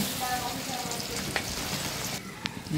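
Washed chicken goes into a pan of hot oil and spice paste for a Bengali country-chicken curry, setting off a loud, steady sizzle with occasional clinks of a stirring spoon, close and without talk.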